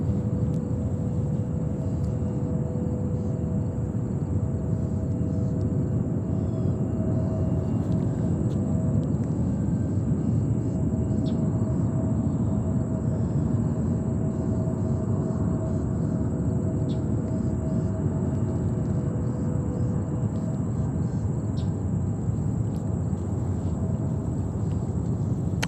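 Delta Boeing 767-300ER airliner at New York JFK Airport, a steady, loud jet roar holding for the whole stretch with a faint high whine on top and no voices.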